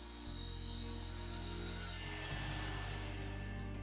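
A power saw making repeated cuts into a wooden board to form a carpentry joint, a loud steady whine with a rough cutting rasp that shifts tone partway through, close and without speech.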